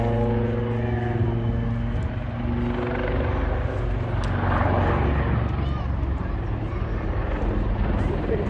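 A Griffin-engined propeller aircraft flying at the Wales Air Show in Swansea, a loud continuous engine drone with a deep harmonic growl that swells and shifts in pitch as it passes, while a commentator talks over it.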